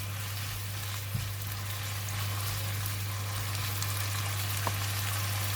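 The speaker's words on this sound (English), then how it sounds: "We'll continue to stir for about 2 to 3 minutes until mushroom is cooked." Mushrooms stir-fry in a pan for a spicy gochujang tofu dish, a continuous close sizzle over a low electrical hum, with a couple of faint utensil taps and no speech.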